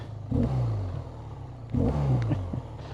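BMW R12 motorcycle engine blipped in neutral, two sharp throttle revs that rise and fall back to a lumpy idle, close and loud with a throaty, low-pitched growl.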